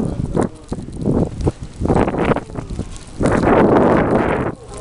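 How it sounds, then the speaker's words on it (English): Strong blizzard wind with snow on the ground in the Midwest, buffeting the microphone in loud irregular roaring gusts, close and harsh, with no talk over it. "yikes, the wind"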